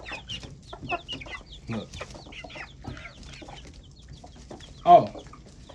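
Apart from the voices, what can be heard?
backyard chickens clucking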